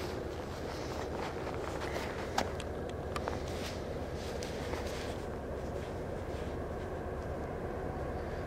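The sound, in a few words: passing train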